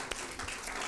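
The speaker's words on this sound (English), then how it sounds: "Let's clap our hands to the Lord one more time." A church congregation claps their hands in praise, a brief, faint burst of scattered clapping.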